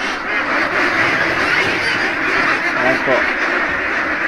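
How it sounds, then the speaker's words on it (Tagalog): Itik Pinas ducks, a wary native Philippine breed, quacking as a noisy flock in a slope-type duck house, with a voice speaking over the birds. "Ang Itik Pinas ay sobrang mailap ng tao."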